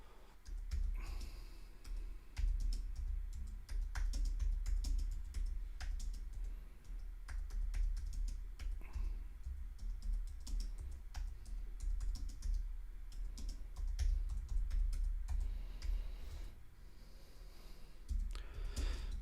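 Rapid typing on a computer keyboard, a steady stream of close key clicks with brief pauses, running over a constant low hum in a quiet room.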